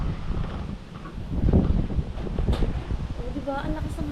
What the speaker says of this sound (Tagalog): Diba? Ang lakas ng hangin.